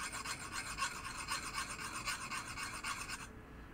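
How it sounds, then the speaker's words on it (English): A hand file rasps steadily along the edge of a metal stepper part from a 1973 Williams Triple Action pinball machine, putting a bevel back on it. The close, continuous scraping strokes run evenly, then stop abruptly near the end. "I'm slowly turning this as I am filing it, so I don't like stick on one spot"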